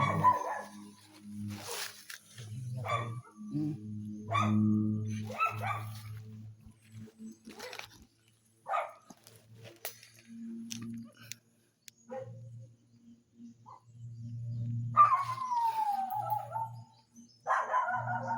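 Dogs barking and howling in bursts, some close and others farther off, with gaps of quiet between; a rising howl-like call stands out near the end.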